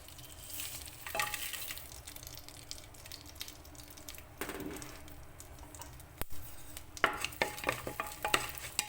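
Whole spices (cumin, fennel, fenugreek and cardamom) fry gently in butter as they are stirred, giving a faint, quiet sizzle broken by intermittent scraping and clinking stirring sounds.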